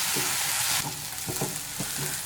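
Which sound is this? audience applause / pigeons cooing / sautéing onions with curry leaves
sautéing onions with curry leaves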